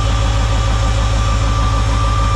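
A loud truck engine with an OBS 7.3 diesel runs steadily close to the microphone, a deep throbbing idle with a constant low rumble and vibration throughout.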